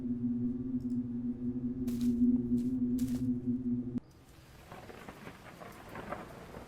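Video game thunderstorm with rumbling thunder and a steady low drone of wind for the first four seconds, a few sharp crackling strikes, then a sudden drop to softer, hissing rain pattering on a surface.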